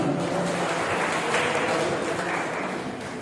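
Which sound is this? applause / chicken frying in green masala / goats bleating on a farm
applause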